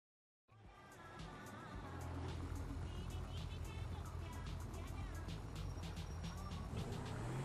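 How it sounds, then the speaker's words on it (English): Car driving in GTA V Online, a steady, moderately loud engine drone with scattered clicks and ticks above it, starting abruptly and holding on, while someone talks over it. "We're going to drive this to my other garage"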